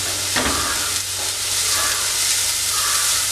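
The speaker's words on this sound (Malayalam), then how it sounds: "സവോള പച്ചമുളക് ഇഞ്ചി വെളുത്തുള്ളി ഇതെല്ലാം നന്നായിട്ടൊന്ന് വഴറ്റിയെടുക്കാം" Onions, green chili, ginger and garlic sauté in a hot pan with salt for a chicken snack, making a loud, continuous sizzle and fry hiss close up while stirring scrapes through it.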